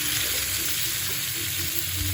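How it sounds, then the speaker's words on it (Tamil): Pirandai being sautéed in a pan for chutney, an even, continuous close sizzle with faint stirring underneath, no voices. "இதை நல்லா வதக்கணும்."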